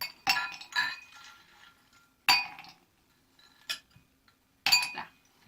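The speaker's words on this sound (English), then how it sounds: "Just use your fingers, just throw 3 or 4 cubes in there." Three or four ice cubes dropped by hand into a glass, giving sharp clinks in separate bursts about two seconds apart, close and clear with quiet gaps between.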